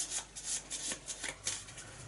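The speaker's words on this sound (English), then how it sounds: "let me shuffle it in front of the camera" Arkham Horror encounter cards being shuffled by hand, a quick series of soft papery riffles and rubs, close and fairly quiet with no voices.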